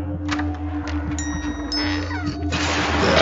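A cat meows a few times, fairly close, amid background noise and a steady hum.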